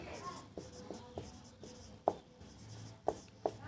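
Hand-writing of a math problem with pen or chalk, faint scratchy strokes and a few sharper taps in an irregular rhythm, very quiet and close.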